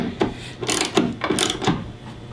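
Bolts on a rear bracket of a 2018 Ford F-150 being tightened with a ratchet, several rhythmic clicking, grinding strokes in a steady back-and-forth, close and clear with no talking.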